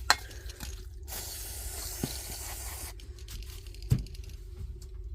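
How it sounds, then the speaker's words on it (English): Electrical contact cleaner sprays from an aerosol can during an angle grinder restoration, a steady close hiss lasting about two seconds, framed by light clicks and taps of handling. "That's electrical contact cleaner, just in case you're curious."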